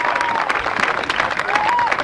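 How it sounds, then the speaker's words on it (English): A golf gallery at a father-and-son championship claps for a shot, a brief steady patter of applause from a spread-out crowd with a few voices mixed in. "Crowd appreciating that."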